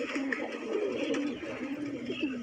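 A colorful fancy pigeon coos in low, rolling phrases, close and moderately loud, with other birds and faint voices in the background.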